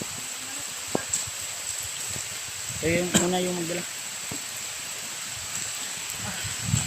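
Steady rain hissing throughout, with a brief murmur of voices partway through.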